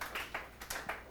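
A handful of students clapping in a classroom, several short uneven bursts of claps spread over about a second, fairly faint and in a roomy space.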